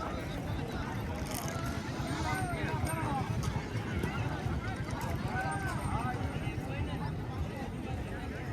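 Horses race at a village fair, their quick rhythmic hoofbeats drumming steadily throughout under loud crowd chatter and shouting.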